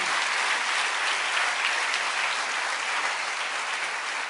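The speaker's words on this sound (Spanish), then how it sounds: "Denle un aplauso al rey" Dense, sustained applause from a church congregation, a loud, even wash of many hands clapping with no break and no speech over it.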